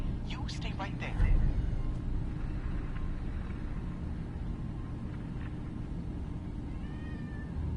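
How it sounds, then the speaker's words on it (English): A cat in the Fallout 4 video game meows a few times early on, over a steady low rumble of background game ambience, with faint tonal sounds later. "Meow, you too, cat."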